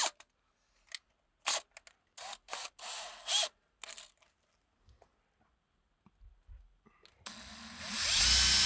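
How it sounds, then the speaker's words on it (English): A drill pre-drilling a hole in a wall during a wall slab installation in a music mastering studio: several short, close drilling bursts with pauses between them, followed by a steadier, louder noise at the end, and no talking. "bit of pre-drilling."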